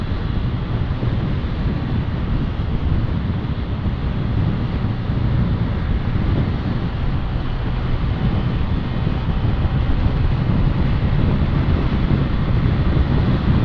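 Strong wind roars steadily against the microphone while a Honda Click 150 2017 scooter is ridden, a dense, loud, continuous buffeting rumble with no break and no talking.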